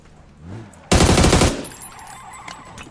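Gunfire in a shooting video game, a loud rapid automatic burst lasting about half a second, followed by fading echoes and faint distant shots.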